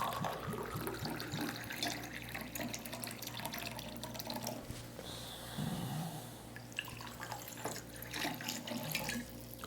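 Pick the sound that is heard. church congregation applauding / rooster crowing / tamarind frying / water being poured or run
water being poured or run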